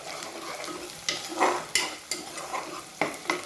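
Onions sautéing in a pan for carrot and beans poriyal, with a soft sizzle under several distinct stirring scrapes and spoon clinks against the pan, close by and without voices.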